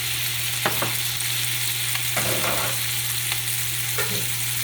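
Pasta tossed into a hot pan of sliced hot dogs, sizzling steadily over a constant low hum, with a few scraping and clattering stirs spread through the clip.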